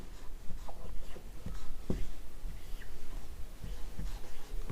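Chalk or marker writing on a board during a chemistry lesson, heard as a series of short scratchy strokes and taps at close range, with no talk over them.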